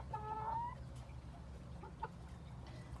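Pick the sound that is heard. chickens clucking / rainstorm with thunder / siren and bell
chickens clucking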